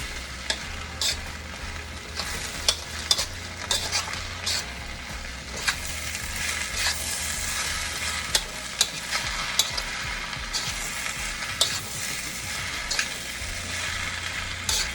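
Chicken fried rice with bean sprouts being stir-fried in a home kitchen, hibachi style, with a steady loud sizzle punctuated by frequent sharp scrapes and clanks of a utensil stirring, continuous with no talking.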